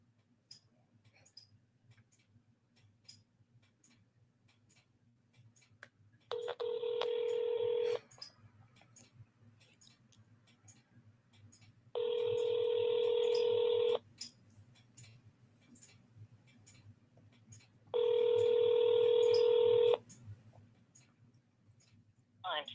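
A telephone placing a call back to a number, with three evenly spaced ringing tones of about two seconds each over a faint background hum and scattered soft clicks.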